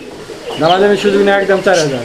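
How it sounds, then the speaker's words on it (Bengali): A breeding pair of pigeons, a male and a female, gives soft rolling coos close by, a couple of drawn-out calls in quick succession. "জিয়া ভাই ডানেরটা মাদি বামেরটা নর কবুতর ফুল রানিং ডিম বাচ্চা করা কবুতর"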